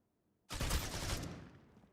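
A single sharp burst of video game gunfire cracks out after a moment of silence, then decays with a ringing tail.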